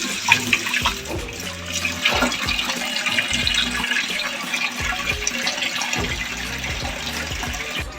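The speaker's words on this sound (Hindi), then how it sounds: "इसके अंदर हम दालें जो ऐड कर देंगे और इसे हम अच्छे से वॉश करेंगे।" Masoor lentils being washed by hand in a cooking pot, water swishing and splashing steadily and close up for several seconds with no talking.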